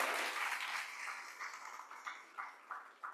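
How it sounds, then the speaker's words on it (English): Applause from the audience at a small business pitch competition, a dense burst of clapping that thins out and fades into scattered claps toward the end. "Let's give them a round of applause because they did remarkable this evening."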